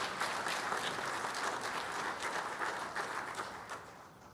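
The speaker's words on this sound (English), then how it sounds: "Let's give everybody an applause" Steady applause from an audience honoring public service award recipients at a county government association session, dense and even throughout with no talking.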